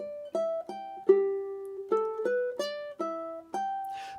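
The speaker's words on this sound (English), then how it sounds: "The one that I've mostly taught you so far has been the pentatonic, which sounds like this." Pentatonic scale on ukulele phrased as a riff, a run of about ten bright plucked notes with one longer held tone near the start, close and clean with no talking.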